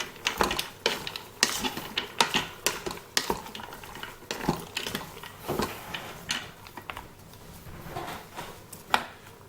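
Pasta and sliced turkey being stirred in a Cookeo multicooker pot, irregular light scraping and clinking of a utensil against the pot, close and fairly quiet.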